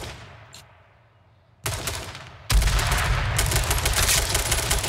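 Video game gunfire in a squad battle, a distant shot fading out, then a burst of loud rapid automatic fire that grows into a dense, sustained roar of close shooting; no speech.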